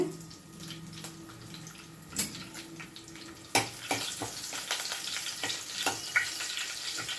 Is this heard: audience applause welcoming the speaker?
no